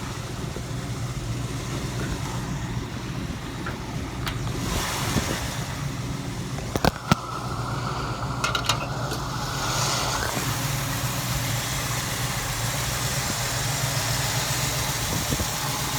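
A restored 1964 Chevy Nova four-wheel-drive sedan with a 350 engine idles steadily nearby, a low, even rumble with a few brief clicks and a short whine partway through. No talking.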